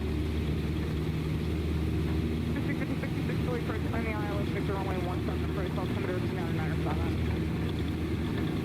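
A Cessna C152 engine drones steadily through the takeoff roll in Microsoft Flight Simulator 2020, its loud, constant propeller hum running throughout while someone talks over it.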